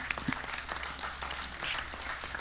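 Short burst of applause from a modest conference audience, a scattering of claps heard fairly close and moderately loud for about two seconds.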